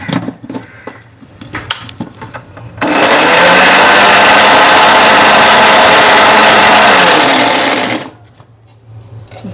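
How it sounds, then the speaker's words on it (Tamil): A mixer grinder blends a salad dressing of chopped garlic, pepper and salt in one loud, continuous whirring burst of about five seconds, with quieter kitchen sounds before and after. "மிக்ஸில் அரைச்சாச்சு."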